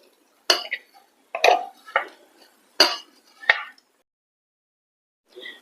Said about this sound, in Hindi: इसे प्लेट में निकाल लेते हैं।